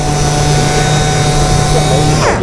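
A SurfPrep power sander drones loudly and steadily up close on wood, a constant buzzing motor hum with gritty friction noise, stopping abruptly at the end.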